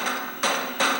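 Two sharp, bright metallic taps about a third of a second apart, each ringing briefly over a steady hiss, with no voices.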